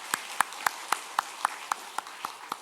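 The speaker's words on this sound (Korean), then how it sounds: "그래, 박수 쳐도 돼요." A church congregation claps after a pregnancy announcement: about ten crisp, evenly spaced claps in a steady rhythm at moderate volume, with no talking.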